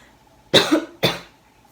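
Two sharp coughs in quick succession from a person with a sore throat, close and fairly loud, followed by quiet.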